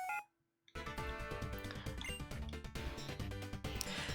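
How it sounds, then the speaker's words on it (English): The X-Transceiver rings in Pokémon White: after a brief electronic tone and a moment of silence, a busy chiming, beeping ringtone melody plays on continuously at steady loudness. "And the X-Transceiver is ringing."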